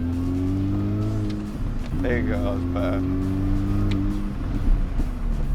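An old DAF HGV truck engine drones and revs steadily up close, its low harmonic hum rising and falling as the gearbox is worked, with someone talking over it partway through.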